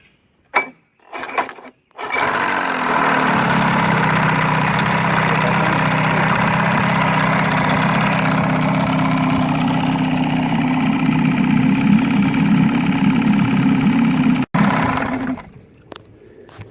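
A 35 hp Evinrude outboard engine, with a faulty neutral safety switch, is started by jumping the solenoid: a few clicks, then it catches and runs at a steady, loud, close idle for about twelve seconds before cutting off.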